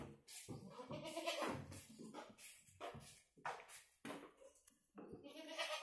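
Goats, including a breeding buck, bleat and call repeatedly on Raigad Agro Farm in Mahad. Several overlapping close cries come in bursts with brief pauses, along with some shuffling.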